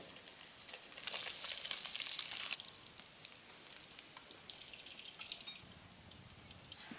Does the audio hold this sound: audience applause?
no